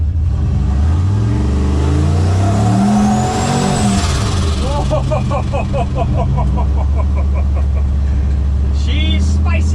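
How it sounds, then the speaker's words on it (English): A Chevrolet C10 squarebody pickup with a turbocharged LS engine swap pulls hard at wide-open throttle on a backroad, its loud engine note climbing in pitch with turbo whine before shifting, the roar staying close and constant throughout. "we take the C10 for a test drive, and I give it full beans, full throttle, full goosing"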